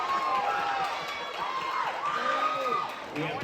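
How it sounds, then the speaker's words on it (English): Live audience at a New York tour Q&A cheering and shouting, a dense, continuous crowd roar with whoops and yells held steadily for a few seconds. "Make some noise if you want Knife to win."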